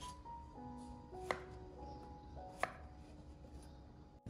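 Two sharp knife chops through straw mushrooms on a cutting board, well apart, against a quiet kitchen background with a faint steady hum.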